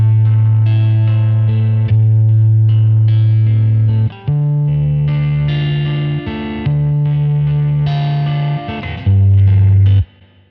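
Distorted electric guitar through Logic Pro X's stock Crunch Reverb amp preset, sustaining long, heavy chords with a spacious reverb tail, changing every couple of seconds before cutting off near the end.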